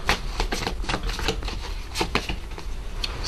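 Tarot cards being shuffled by hand in a quick, close flurry of riffling and sliding snaps, several bursts over a few seconds with no talking.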